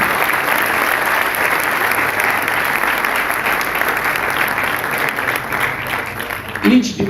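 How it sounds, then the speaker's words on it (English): Audience applause at an annual prize distribution programme, a sustained roar of many hands clapping that stays loud and even throughout, with a louder burst near the end. "let us clap hands for Dr."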